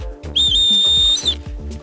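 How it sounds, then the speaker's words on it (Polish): A single shrill, steady blast from a survival whistle sounds for about a second, close and loud, with faint rumbling background noise. "no i jest oczywiście również gwizdek survivalowy"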